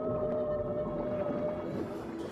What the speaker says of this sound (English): Sounds of healthy reefs played near empty reefs can bring fish back to the area.